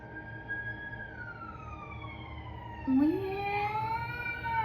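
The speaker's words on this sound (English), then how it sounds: "I can't concentrate with sirens go by." A siren wails with rising and falling tones over steady traffic rumble, growing louder and sweeping upward partway through as the vehicle passes close by.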